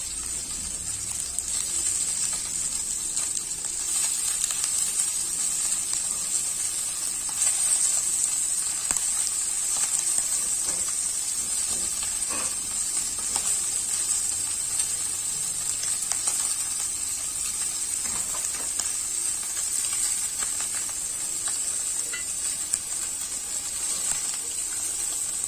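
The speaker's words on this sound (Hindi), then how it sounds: "हम दूसरे साइड से भी अच्छे से तल लेते हैं इसको।" Fish sizzling as it fries on a tawa for a Chhattisgarh-style tawa fish dish, a loud, steady hiss of hot oil that runs unbroken and close, with faint clatter and no speech.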